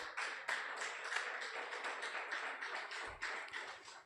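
A church congregation claps steadily for the Lord, a dense, continuous patter of many hands, fairly near and even, with a few heavier thumps toward the end.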